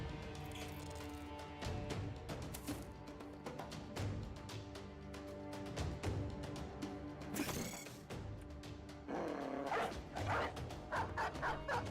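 A dog in the Battle Brothers video game barks and yips repeatedly over a continuous bed of game music and effects, the barks fairly prominent and without any talk.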